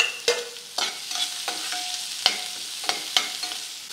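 Chopped onion frying with garlic in a hot pan on a stove, a steady sizzle broken by repeated scrapes and clicks of a spatula stirring, close and alone.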